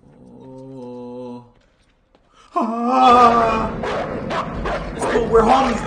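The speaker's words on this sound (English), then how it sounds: "That's the dog we have to befriend" A dog in the video game Until Dawn yelps and whimpers, starting with a steady whining tone, then a short pause before louder yips and wailing barks that fill the rest.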